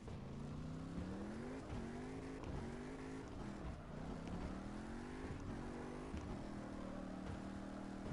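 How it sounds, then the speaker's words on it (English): Car engine in CarX Drift Racing, a steady buzzing drone that rises and falls as the throttle is worked, heard close and continuous with no pauses. "Literally they changed the engine note for this car specifically"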